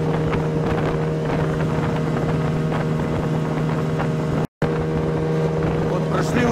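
A Vikhr 30 outboard motor drives a Kazanka aluminum boat upstream at part throttle, its steady loud droning hum continuous under wind buffeting on the microphone, with a brief cut partway through.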